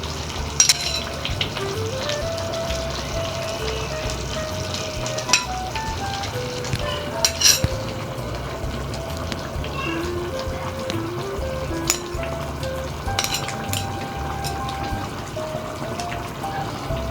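Butter sizzling on a tray of chicken and potatoes, a steady close crackle and hiss with faint stirring clicks and sharp pops throughout, no voices.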